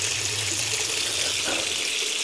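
Tap water runs steadily from a faucet into a sink while makeup is washed off a face, a continuous close hiss with a brief splash of hands in the stream, no talking.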